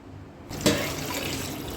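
Water pours into a pot for goat leg soup, starting abruptly after a brief quiet moment with a splash and then a steady, close, continuous gushing.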